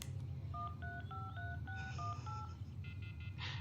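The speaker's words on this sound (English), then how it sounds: "I took out my cell phone and dialed the first number from my contact list." A cell phone number is dialed in the video game Everlasting Summer: a quick, evenly paced series of about eight tones, followed by a brief connecting chirp, over a low steady hum.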